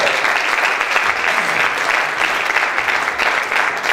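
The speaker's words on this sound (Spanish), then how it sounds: "Den un aplauso al Señor." Dense, steady applause from an audience at a religious lecture on biblical judgments, loud and continuous for about four seconds with no break.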